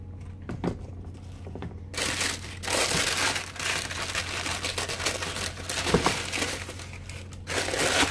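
Paper stuffing being pulled out of a pair of new Asics Gel Venture 6 shoes, a loud, close, continuous crinkling and crumpling that runs for several seconds with brief pauses and no talk.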